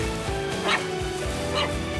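Puppy yips and short barks, two brief bursts amid a busy background of other soft whimpers and noises.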